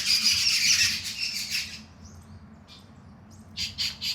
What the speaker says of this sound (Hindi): अब ये देखो, चिड़ियों की चहचहाहट हो रही है।